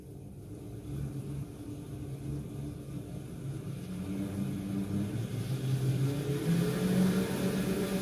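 A wound rotor induction motor runs steadily at 750 RPM, giving a low, even electrical hum with a faint rising whine that grows slightly louder toward the end, with no talk.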